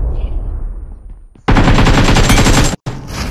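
Automatic M4 rifle fire in BGMI rings out as a loud, dense burst after a quieter stretch of game ambience, cutting off briefly before another short volley.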